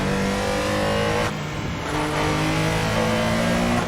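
A flat-six racing car engine in a racing video game revs hard and steadily, its pitch rising and shifting through gears, loud and continuous with no talking.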